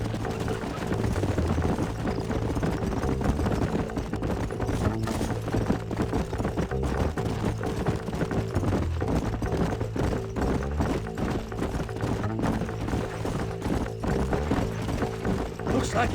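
Horses' hooves clip-clopping at a run through the Old West of Red Dead Redemption, a steady rhythmic pounding that continues throughout, with voices talking over it.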